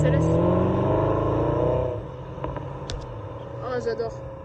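Mercedes SLS sports cars pass during the Coupe des Alpes rally in the French Alps, with engine drone fading from a strong pass into quieter revs while people talk excitedly nearby.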